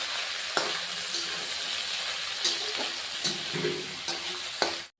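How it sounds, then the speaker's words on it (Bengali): Green chillies, potatoes and pointed gourd sizzle and fry in a pan, a steady soft crackle close by, broken by a few light clinks and scrapes of stirring. "এবার কাঁচা লঙ্কা, আলু আর পটল ভেজে নিব।"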